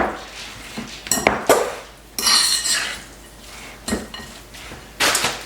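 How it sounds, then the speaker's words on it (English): A spoon stirs shredded cheese into a mixture in a bowl, making a few irregular scraping clinks and knocks against the bowl, close and fairly loud with short pauses between strokes, with no talking. "We're just gonna stir this up, just like this. Stir our cheese in to the other mixture."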